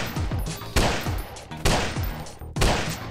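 Three loud, evenly spaced gunshots ring out in a Friday Night Funkin first-person shooter game, each a hard close crack that decays into a brief ringing echo.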